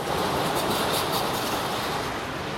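The Wuppertal suspension railway, a hanging metro system dating from 1901, passes by with a loud continuous rolling roar and metallic clatter from its wheels, steady and close.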